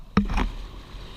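Crew paddles strike the water at the start of a 200 m time trial boat race, a single sharp splash followed by a brief swishing wash, close and fairly loud.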